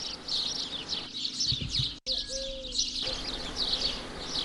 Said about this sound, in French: On entend parfaitement le gazouillement des oiseaux.